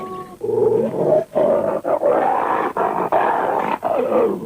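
A wolf gives harsh, rapid barks and growls, loud and close, in a continuous run of rough canine vocalisations broken by brief pauses.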